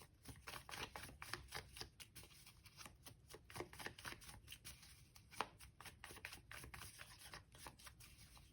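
Tarot cards shuffled by hand in a quiet room, a soft continuous riffling and flicking with scattered sharper snaps, faint and close.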